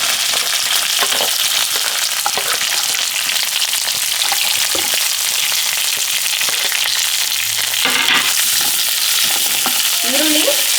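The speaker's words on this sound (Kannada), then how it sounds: "ಈರುಳ್ಳಿ ಟ್ರಾನ್ಸ್ಪರೆಂಟ್ ಆಗೋವರೆಗೂ ಹುರ್ಕೋಬೇಕು" Onion and green chili frying in a pan, a loud continuous sizzle with occasional stirring scrapes, close and steady throughout.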